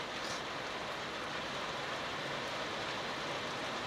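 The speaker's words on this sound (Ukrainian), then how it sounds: "А, Дощ таки не закінчився." A steady, dense hiss of rain falls without a break, even and fairly soft, with no voices over it.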